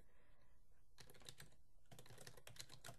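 Someone types an email address on a computer keyboard in two quick bursts of close, soft keystrokes separated by a short pause, with no talking.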